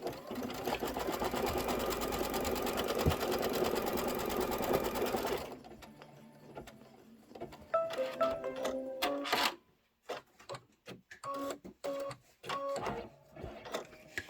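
An embroidery machine sews a placement stitch on felt with a fast, continuous mechanical whir for about five seconds, then stops and restarts in short, uneven bursts.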